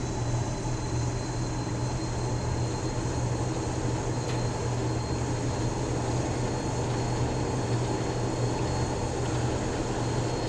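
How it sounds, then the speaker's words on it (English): A Class 47 diesel locomotive in the Train Sim World game, on the Northern Trans-Pennine route, accelerates with a loud, steady, deep engine rumble and a constant droning hum throughout. No one talks, and no whistle stands out. "Hear the whistle of the train as we accelerate."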